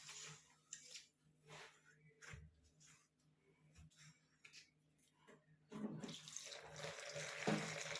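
Water poured into banana fritter batter with Boost and milk powder in a bowl, a soft trickle and splash that swells near the end after a few quiet clinks and taps.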